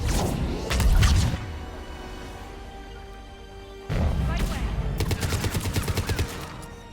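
Gunfire striking an escape pod in Mass Effect 3 on Sur'Kesh: two dense bursts of rapid shots and impacts, a short cluster early then a longer rattling volley after a pause, loud and close over a low hum.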